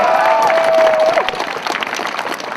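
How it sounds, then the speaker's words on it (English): Crowd at an outdoor Sheffield Kill the Bill and International Workers' Day rally breaks into loud, sustained applause with scattered cheers, a whistle-like tone briefly at the start, the clapping thinning toward the end. "Another round of applause for Martin, please."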